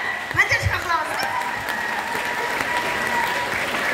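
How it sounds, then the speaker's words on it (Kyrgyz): Audience applause at a live stand-up comedy show: a steady wash of clapping from a crowd, continuous and fairly loud, with some voices mixed in near the start. "Бир кол чаап коюңузчу."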